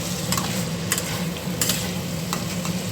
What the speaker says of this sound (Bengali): ছোলাটা ভালোভাবে কষানো হয়ে গেছে